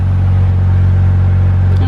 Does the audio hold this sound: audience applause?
no